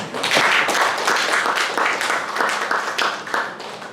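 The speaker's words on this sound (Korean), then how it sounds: "이렇게 박수 한번 오늘 위해서 한번 주셔야 됩니다" Dense clapping from the audience at the Nonsan mayor's press conference, a loud, close burst of many hands in quick, uneven rhythm that keeps going for several seconds.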